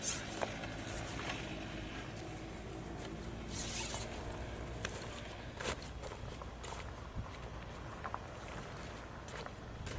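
A zipper on the carry bag of a Creature Craft rescue raft is pulled open, a rasping slide heard close up alongside shuffling and handling noises.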